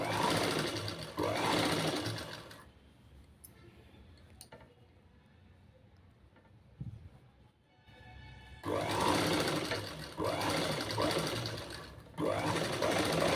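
A sewing machine stitches a boat neck blouse in fast rattling bursts, with a quiet pause in the middle, where only faint clicks and handling are heard, before it runs again at a steady clip.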